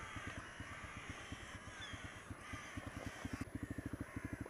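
A rook with a broken wing caws repeatedly outdoors, a run of harsh rhythmic calls that speeds into a rapid, louder burst near the end, close by with no talk over it.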